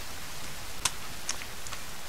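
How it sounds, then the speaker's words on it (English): Rainfall in the survival video game The Forest, a steady hiss of fine drops carrying through the whole stretch with a few sharper taps and ticks standing out, moderately quiet and without speech. "That's more like rain. Is that a new update in the game?"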